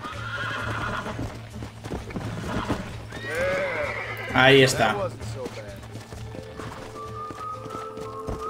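A horse whinnies loudly mid-clip amid steady clip-clopping hooves in the video game Red Dead Redemption, with someone talking over the scene and a low game-like hum underneath.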